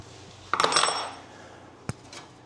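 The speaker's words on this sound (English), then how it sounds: "Pin comes out." A metal pin pulled from a broken tractor seat, a close burst of metallic rattling and scraping followed by a single sharp clink, with quiet background in between.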